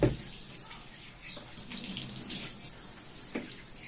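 Tap water runs softly into a tub for a dog's bath, a low steady flow broken by scattered splashes and small bumps, quiet and nearby.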